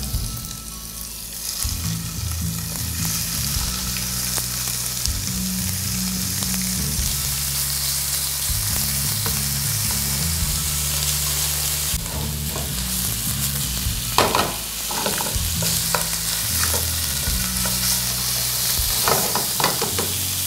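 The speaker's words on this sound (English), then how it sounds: "Now we're going to add in the pork" Pork sizzling in a pan with ginger and shallots, a dense continuous frying hiss with rattling, scraping stir strokes breaking through, loud and close, no talk.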